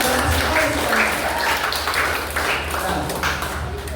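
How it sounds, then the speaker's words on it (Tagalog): A church congregation claps loudly for God, a broad sustained rattle of many hands mixed with a low hum, some voices, and scattered bright taps. "Sige, pumalakpak ng malakas sa Diyos."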